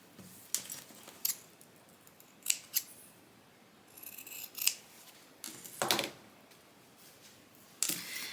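Scissors snip through the fabric edges of a tote bag in a series of short, crisp cuts with small pauses, close and fairly quiet, with no talking.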